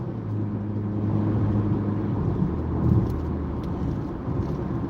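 Engine rumble from inside a car as it accelerates on a driving lesson, a steady low drone that swells slightly midway, with no talk over it.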